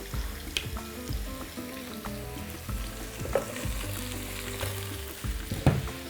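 Smoked meats, spicy chicken wings, hunter's sausage and bone-in ham for bigos frying in a pot, with a steady sizzle under repeated clatter and scraping of stirring, occasional sharper knocks against the pot.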